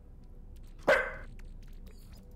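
An excited pet dog near its feeding time lets out a single sharp bark, fairly close and clear over a quiet room, with no talking.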